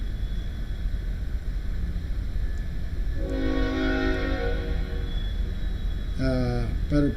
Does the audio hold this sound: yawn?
no